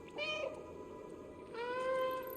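Two drawn-out meows from the cat in the PS5 game Stray, separated by a short pause, play fairly quietly over a low background hum.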